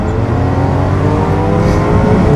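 A Yamaha R1 sport motorcycle engine runs hard and loud close by, a steady strong droning roar with rising harmonic tones from revving.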